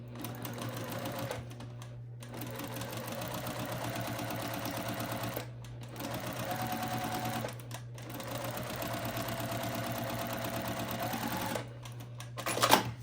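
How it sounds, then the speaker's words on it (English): A sewing machine chain piecing fabric pieces whirs in steady stitching runs separated by brief pauses, fairly close and with no talking. "we sewed all 4 and we chain pieced them even"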